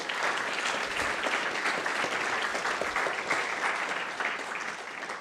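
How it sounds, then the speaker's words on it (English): A conference audience applauds during a privacy research awards and closing session, giving sustained, dense clapping that eases slightly near the end, with no voices over it. "let's give them another big round of applause"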